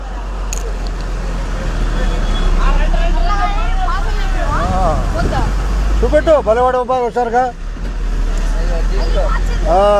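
Bus departing from Tenali for Tippalakatta, a steady low engine rumble and traffic noise close by, with people talking over it.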